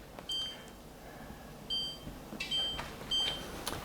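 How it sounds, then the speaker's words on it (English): A kitchen timer gives several short, faint electronic beeps in small bursts as buttons are pressed to set it for six minutes, with quiet room noise between presses. "let me set my timer"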